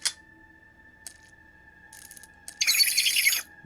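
A train-eating creature in an SCP animation gives off a steady mechanical drone, then lets out a loud, harsh, shrill screech lasting about a second near the end. No one speaks.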